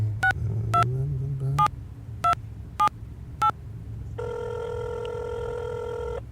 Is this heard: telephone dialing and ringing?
yes